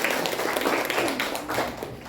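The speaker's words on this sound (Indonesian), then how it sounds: "tepuk tangan untuk kita semua" A class of pupils applauds together, a steady burst of dense clapping at moderate volume, close and without talk.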